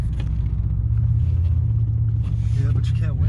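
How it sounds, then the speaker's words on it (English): A car out on a test drive gives a steady, loud low engine and road rumble that continues without a break, with faint voices coming through near the end. "We're gonna go on one final test drive right now"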